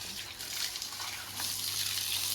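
Water gushing steadily from a pump machine onto garden plants, a continuous outdoor hiss and splash at close range that swells a little louder partway through.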